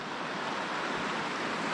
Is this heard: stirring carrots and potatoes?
no